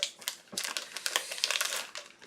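A cleaning wipe is pulled from its pack before cleaning a keyboard: close, papery crinkling and rustling in quick bursts, steady for about two seconds with no talking.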